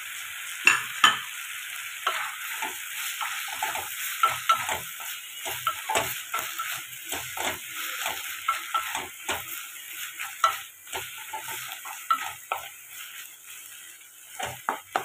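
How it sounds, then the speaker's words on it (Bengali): Chili flakes, ground pepper and oregano fry and get stirred in a pan for pasta sauce, a bright continuous sizzle broken by repeated spatula scrapes and taps, close and clear with no talking. "হালকা হাতে নেড়ে চেড়ে 1 মিনিট মতো আমি রান্না করে নিয়েছি।"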